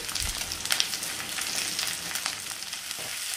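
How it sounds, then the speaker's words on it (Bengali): Onion and capsicum stir-frying on a high flame for chicken Manchurian, a loud, dense, continuous sizzle with scattered crackles and a few stirring clatters throughout, no talking. "এবার এই সমস্ত সবজিগুলোকে আমাদের মিডিয়াম টু হাই ফ্লেমে 2 থেকে 3 মিনিটের জন্য ভালো করে ভেজে নিতে হবে।"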